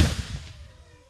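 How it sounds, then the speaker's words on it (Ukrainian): A single gunshot fired during weapons training, a sharp loud crack with a short echoing tail that fades over about a second. "Постріл."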